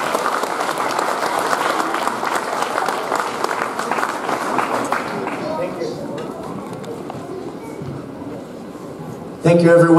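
An audience claps for second-grade students at a school Veterans Day assembly: dense, steady applause fills the room, then thins out and fades before a voice begins speaking at the end.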